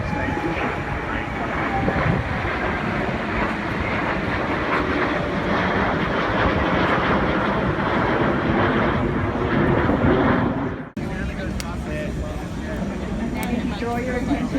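KC-30 tanker aircraft flying in formation at an airshow, a loud continuous jet engine roar that holds steady and then drops sharply near the end, leaving quieter background noise.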